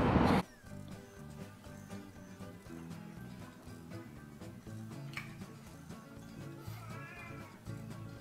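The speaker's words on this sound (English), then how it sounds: "Dang nabbit cat, you're gonna be down the menu next week if you don't shut up." A cat meows loudly and insistently, starting with a strong burst and continuing in repeated yowls over a steady background of other sound, with occasional sharper calls later.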